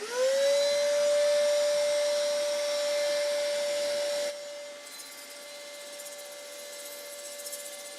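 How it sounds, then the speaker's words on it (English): Wood turned on a lathe hums with a steady whine while sandpaper smooths it, the pitch holding constant and the sound louder at first before dropping to a quieter level. "Hello sandpaper, my old friend. It's good to smooth with you again."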